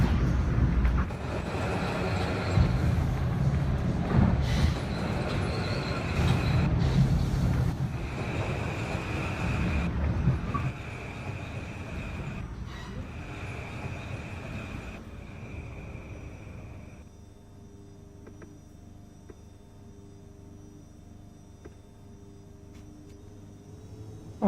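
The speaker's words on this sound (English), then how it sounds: "That train is coming from Boundary Beach." Train running on rails in a video game, a loud rolling rumble with rhythmic clacks and screeches that fades to a quieter steady hum halfway through, with no voices.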